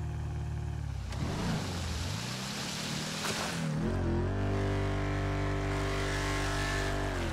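A Mahindra Thar's engine revs as it tries to climb a ramp in GTA 5, first a rising and falling roar, then a sustained high whine that holds steady.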